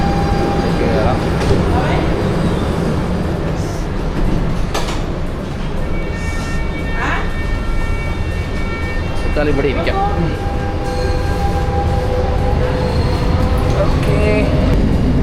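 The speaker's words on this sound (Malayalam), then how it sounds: "വലിയ വൃത്തിയൊന്നുമില്ല, നല്ല പഴയ മെട്രോയാണ്." An old Lisbon metro train runs with a loud, constant rumble and occasional metallic squeals, while a person speaks briefly over the noise.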